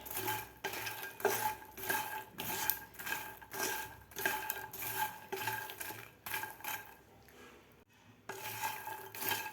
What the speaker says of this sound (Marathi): व्यवस्थित आपल्याला मिक्स करून घ्यायचं आहे